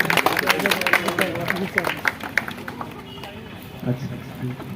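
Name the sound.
applause at a farewell ceremony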